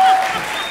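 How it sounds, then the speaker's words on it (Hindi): Brief burst of studio audience applause on a Hindi comedy show, loud at first and fading quickly within a moment. "जोरदार तालियां के लिए"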